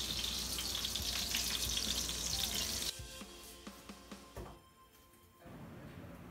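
Chicken pieces sear in a hot pan with a loud, steady sizzle that drops off sharply partway through, leaving quieter crackles and faint clinks before a softer frying hiss returns.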